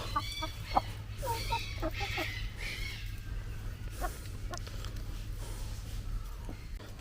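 Chickens cluck in short bursts close by, with a steady low hum running underneath throughout; a red fighting-breed chicken.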